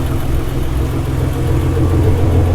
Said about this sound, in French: Une petite fuite d'échappement.